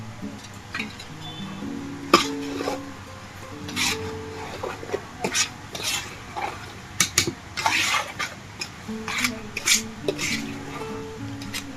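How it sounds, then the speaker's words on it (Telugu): Prawn pickle being stirred in a large pot at a nonveg pickle maker in Bhimavaram, the prawns already boiled and in oil: irregular metal scraping and clinking of a ladle against the pot, with close rubbing and stirring noises. "ప్రాన్ పికిల్ కలుపుతున్నారు."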